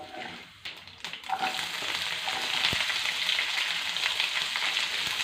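Mustard seeds with urad and chana dal sizzle in hot oil, the hiss swelling after a few early clinks into a dense, steady crackle close by.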